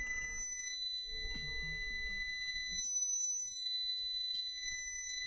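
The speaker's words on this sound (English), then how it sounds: "You hear that beep? Beep, beep, beep, beep, beep, beep, beep." A multimeter in continuity mode gives repeated high electronic beeps while testing a laptop, steady tones in quick succession, clear and close, with faint low clatter underneath.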